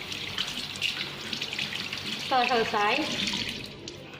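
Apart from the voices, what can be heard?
running tap water rinsing hands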